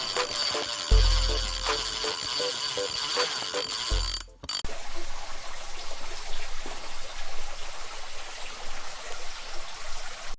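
A freshwater stream in Kerala, visited on a crab-hunting trip, flows with a steady, broad rushing wash that follows a few seconds of mechanical clicking and rattling.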